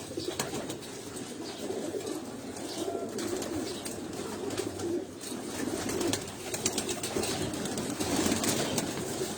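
Breeder pigeons kept on a rooftop, a flock cooing continuously in soft, overlapping low calls against faint ambient noise, with occasional wing flutters.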